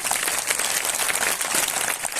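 Loud, dense applause from a congregation at a Christian spiritual fellowship gathering in Umarpata, many hands clapping continuously and close with no voices over it.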